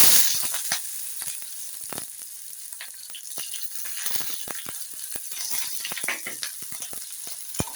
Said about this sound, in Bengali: পেঁয়াজ কুচিগুলো দিয়ে আমি একটু এগুলোকে ভেজে নেব।